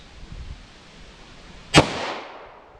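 A single sharp gunshot from a revolver firing a 10mm Auto Freedom Munitions X-DEF round about five yards from a target, a loud crack with a short ringing decay after near-quiet outdoor air.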